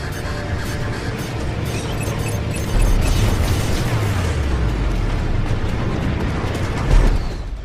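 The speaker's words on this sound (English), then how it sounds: "Missile launched." A missile launches and explodes in the space combat game Strike Suit Zero, a loud dense roar with rumbling low booms swelling midway and a sharper blast near the end, with no talking.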